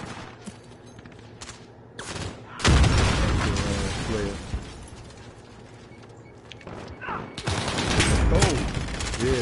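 Gunfire in Call of Duty on PS5, bursts of shots and booms rising loudly after a quieter start, with a voice talking over the action at times.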